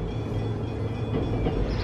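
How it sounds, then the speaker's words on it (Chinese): A small steam train approaches in Melbourne, heard as a steady low rumble and rolling mechanical noise at a moderate distance, continuous and without speech. "听到声音了，等下可能会有个小火车经过"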